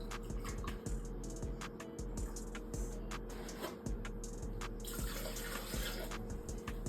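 Water runs steadily from a tap into a container, a continuous gushing with small clinks and knocks, no talking.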